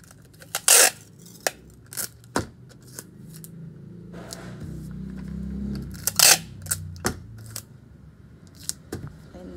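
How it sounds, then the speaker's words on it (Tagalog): Packing tape is pulled and pressed onto a parcel being wrapped for shipping, with sharp ripping bursts and crackling handling noises between quieter rustles of plastic. "Kaya lagi natin lalagyan siya ng tape."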